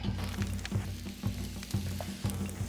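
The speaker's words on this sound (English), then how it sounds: "The idea here is you sear the meat for a couple of minutes, and then turn the lobsters over so they finish cooking in the shells." Lobster claws searing in a hot smoking pan give off a steady crackling sizzle with a rhythmic low sputter repeating about every half second, close and continuous.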